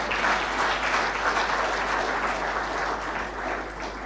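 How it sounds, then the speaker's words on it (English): Sustained audience applause at an evening birthday celebration event in Ethiopia, dense and steady clapping from a large crowd, loud throughout with a low constant hum beneath. "Shall we give her another round of applause,"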